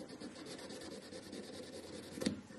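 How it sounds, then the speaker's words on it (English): Quiet, steady rasping of fine-grit sandpaper rubbed back and forth over metal, close up, with a brief sharper scrape near the end. "So I have a very fine grit sanding paper"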